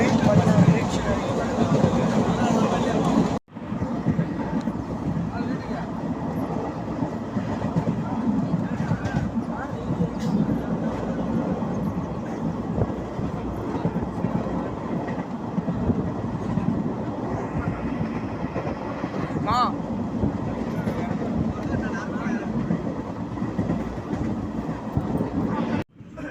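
A train runs with a steady, loud rumble that carries on without a break, cutting off abruptly at the end: the 16090 Jolarpettai–Chennai Central Yelagiri Express in India.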